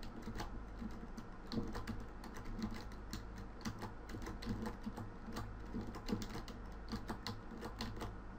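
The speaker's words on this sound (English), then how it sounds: "Sorry if you're getting my heat keyboard, I've got a mechanical keyboard." Rapid clicky typing on a mechanical computer keyboard, a fast irregular stream of close, quiet keystrokes over a low steady hum.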